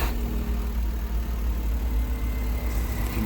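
A Smart Fortwo engine runs at a steady idle after a ram air intake install. The low hum is continuous and close, with a faint rise near the end and no talking.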